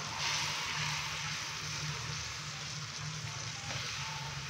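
Tomato paste and yogurt frying for a dhaba-style chicken curry, a steady close sizzle with a low bubbling hum throughout and no pauses.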